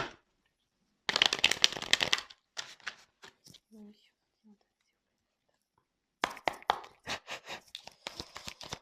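Tarot cards are shuffled and drawn by hand, two bursts of rapid riffling and slapping up close separated by a pause with soft murmured speech and card placements.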